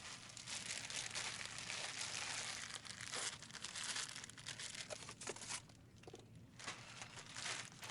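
A plastic zip bag stuffed with paper and foil shreds is handled up close, giving continuous crinkling and rustling with sharper crackles, steady and fairly quiet.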